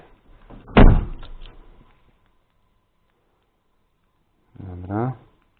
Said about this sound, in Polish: Zamkniemy drzwi.